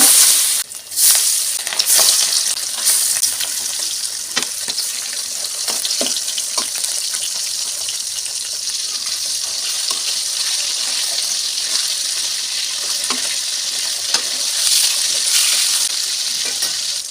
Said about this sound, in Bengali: এখন মাছ আর মাছের ডিমটাকে ভেজে নিচ্ছি